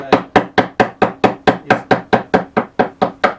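A chisel cuts wood for a hand plane till cabinet, making about fourteen sharp, evenly spaced strikes close by, each a crisp knock that fades quickly, with no voices.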